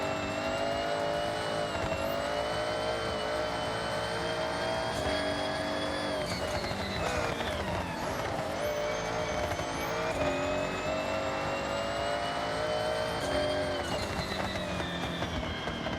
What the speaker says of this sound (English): This is my 1700 horsepower Raptor